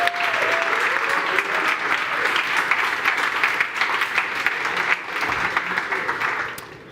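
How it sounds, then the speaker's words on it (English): Sustained audience applause for the City of Bratislava at the Climathon Bratislava 2024 event, a dense room-filling wash of clapping holding steady for several seconds, with a brief voice near the start, before tapering slightly at the end. "Round of applause for the City of Bratislava"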